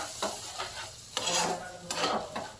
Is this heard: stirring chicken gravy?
yes